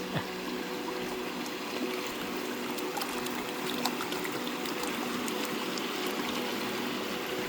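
Gold pan being worked in muddy water at a public panning site in Fairplay, Colorado, a close continuous swishing and trickling with small splashes and clicks of gravel, steady and moderately quiet.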